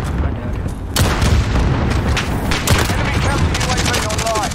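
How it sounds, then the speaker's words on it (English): Gunfire in the video game Modern Warfare: loud, booming shots, then rapid bursts of automatic fire toward the end, with a player's voice over the shooting. "Shooting at me!"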